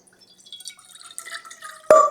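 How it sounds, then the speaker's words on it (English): Lemon juice trickles and drips into a cauldron, faint and sparse at first, then lands with a sudden louder splash near the end. "We'll be pouring the lemon juice into the cauldron."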